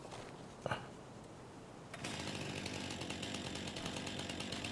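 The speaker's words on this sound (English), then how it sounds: "That's my chainsaw." Chainsaw from the Farming Simulator 25 video game starting up at about two seconds, then a steady loud buzzing whine running continuously after a brief click and rustle.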